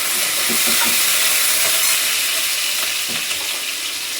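Chillies and garlic frying in hot oil in a pan, a loud steady sizzle with crackling spits and pops, continuous throughout with no talking.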